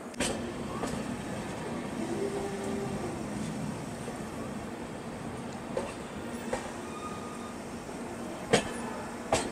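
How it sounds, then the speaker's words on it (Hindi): Rourkela–Puri Vande Bharat Express overtaking near Khurda Road Junction, a steady broadband rumble of the passing train with faint clicks of wheels on rail joints and a few sharper knocks near the end, moderately loud, with no talking. "यहाँ पर राउरकेला पूरी वंदे भारत एक्सप्रेस हम लोगों को ओवरटेक मार के निकल गई"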